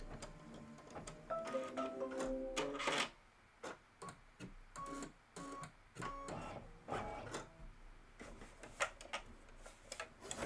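Embroidery-capable sewing machine stitching a quilt block with background fabric pieces, a rapid rhythmic mechanical ticking that runs in bursts and pauses, close and clear with no talking.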